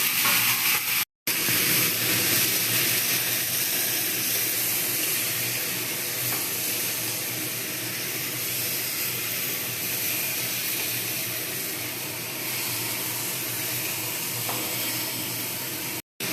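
Chopped tomato and capsicum hit hot oil with frying onions in a pan, giving a steady, loud, even sizzle and hiss that runs without a break, with no talking.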